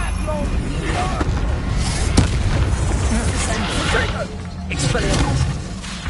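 An Incendio fire spell goes off in a Harry Potter video game, a loud booming burst with whooshing, crackling fire and explosive impacts that rumble on across several seconds.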